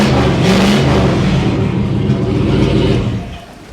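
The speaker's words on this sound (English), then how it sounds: "that's got no muffler, but not bad" An old car engine with a knocking motor runs with no muffler, giving a loud, rough, throaty drone with a steady low rumble that drops away near the end.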